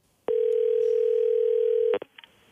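A telephone line gives one loud, steady tone lasting nearly two seconds while placing a call, then cuts off with a click and a brief rustle.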